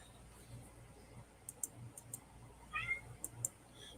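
A cat meows indoors in short faint cries with a few clicks, against a quiet room background with soft ambient noise.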